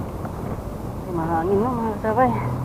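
Wind gusting beside the Pasig River, a steady rough rumble across the whole stretch while a voice speaks over it in the second half.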